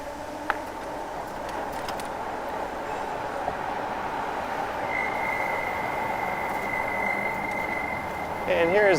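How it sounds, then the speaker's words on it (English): A bicycle's rear disc brake squeals in a sustained high tone over steady road and traffic rumble during a late-afternoon ride through Toronto streets, wavering near the end. "that squeal is my rear right, or my rear disc brake"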